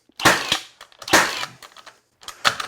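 Pneumatic framing nailer driving nails into wood near a knot: three sharp, loud bangs about a second apart, each a crisp impact with a short tail of air and rattle between shots.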